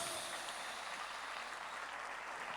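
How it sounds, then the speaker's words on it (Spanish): Congregation applause during a church sermon, a steady, dense wash of clapping heard from a distance, quiet and unbroken with no voices over it. "Pero ese aplauso está muy flojo si es para Jesús."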